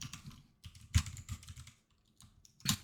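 A formula for an average is typed on a computer keyboard in short bursts of close key clicks separated by brief pauses, with no talk over it.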